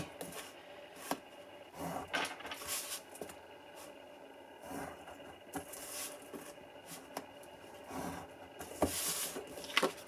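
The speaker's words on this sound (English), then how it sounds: "what we're going to do is put a score line all the way down, there and there and there" Paper being scored along marked lines for a small triangular treat box, a series of brief dry scraping strokes with light rubbing and tapping, close and fairly quiet, no talk.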